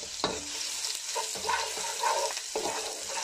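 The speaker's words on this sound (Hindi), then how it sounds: "ऑयल हमारा गर्म हो गया है, हम उसमें एक प्याज मैंने बारीक चॉप किया हुआ है उसको डाल" Finely chopped onion frying in hot oil, a steady close sizzle broken by several spoon-against-pan knocks and scrapes as it is stirred, with no talking.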